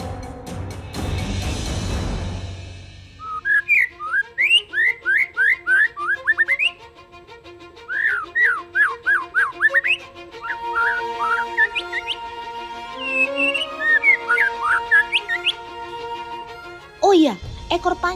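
A white-rumped shama (murai batu) sings loud, clear whistled phrases of rapid rising notes in repeated bursts, close and dominant, after a brief noisy opening.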